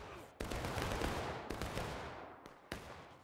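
Musket volleys in the Civil War shooter War of Rights, crackling as a continuous wash of distant and mid-range shots, with several sharper reports cutting in at intervals.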